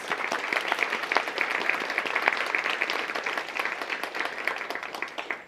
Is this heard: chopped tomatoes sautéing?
no